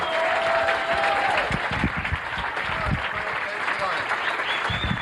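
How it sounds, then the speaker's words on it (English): Comedy club audience applauding for comedian Frank Prinzi after a stand-up set, a full, steady round of clapping with crowd noise and a voice speaking over it. "Nice round of applause, Frank Prinzi."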